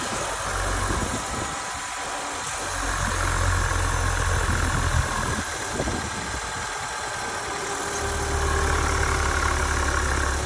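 A 2021 Chevy Silverado 1500 with the 2.7L engine idles steadily, a continuous low rumble with a faint vibration that stays even throughout, close and alone with no talking.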